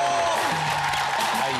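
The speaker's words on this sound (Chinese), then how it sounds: "掌声鼓励！" Audience applause on a Taiwanese variety show stage after a magic-style trick, a short burst of dense clapping mixed with voices and a bit of music.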